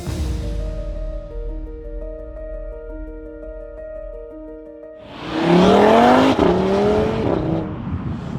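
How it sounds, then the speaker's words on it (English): An Audi RS3 engine hums at steady tones, then revs hard as the car pulls away, the pitch rising in loud, close sweeps with tyre and wind noise. "the only reason I buy the RS3 is because of its engine"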